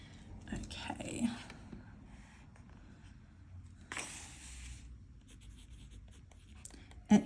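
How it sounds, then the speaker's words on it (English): A pen scratches across planner paper in short bursts of strokes with pauses between, close and fairly quiet, with a couple of brighter scribbles standing out. "It definitely feels different writing on this paper."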